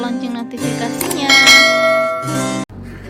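A bright bell chime rings out loud and clear, ringing with long harmonic overtones for about two and a half seconds before it stops abruptly, leaving a quieter low tone.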